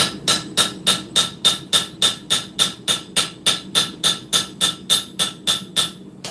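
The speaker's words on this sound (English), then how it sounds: "Okay, more planishing on the blade." Hammer planishing a hand-forged short spear blade: a steady, even run of about twenty ringing metallic strikes, close and loud, with no voices.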